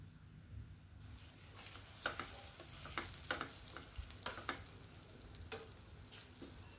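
Spoon or spatula stirring four beaten eggs into a dish in a pan, with a series of scraping clicks over a faint steady sizzle, close by and alone.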